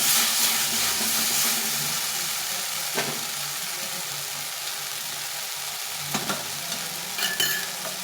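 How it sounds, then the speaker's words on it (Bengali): Soybean curry being sautéed with cumin powder in a pan, giving a steady close sizzle and frying hiss with occasional scraping stirs and brief clatters, with no talking. "দু চামচ মতো জিরে গুঁড়ো সবটাকে ভালো করে কষিয়ে নিতে হবে"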